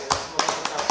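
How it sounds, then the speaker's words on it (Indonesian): Scattered claps from a small audience after a talk on reducing child stunting in South Lampung, a few quick hand taps in short bursts at moderate distance. "Tepuk tangan."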